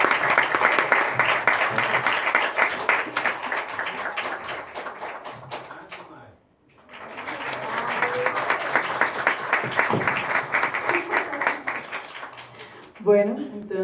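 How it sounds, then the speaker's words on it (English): Audience applause for two invited guests at a talk, a dense, steady wash of many hands clapping that dips to near silence midway, then swells again with voices mixed in. "let's give a big round of applause to Maria Gamboa and Frank Baez for being here"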